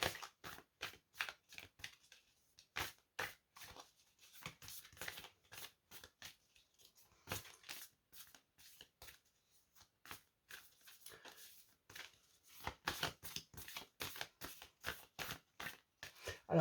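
A deck of tarot cards shuffled by hand close up, with quick bursts of riffling and snapping card edges that repeat in an uneven rhythm and pause briefly between handfuls.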